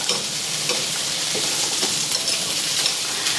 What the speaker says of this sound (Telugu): వీటిని బాగా వేగనివ్వాలి